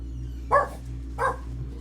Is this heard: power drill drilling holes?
no